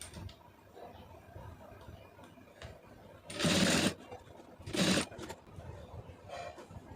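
A sewing machine stitches a blouse lining in two loud bursts, the first about half a second long and the second shorter, over a quiet room background.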